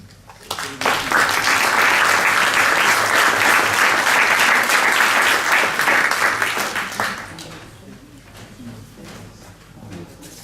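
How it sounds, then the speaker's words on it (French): An audience at a conference talk on sustainable, autonomous energy use breaks into full, dense applause that swells quickly, holds for several seconds, then thins out and fades into scattered claps. "Merci pour vos applaudissements."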